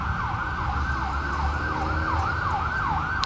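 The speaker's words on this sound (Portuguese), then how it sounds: "Sirene," Emergency vehicle siren wailing in the city of Sorocaba, a repeating rising and falling tone carrying steadily over low traffic rumble, fairly loud and continuous.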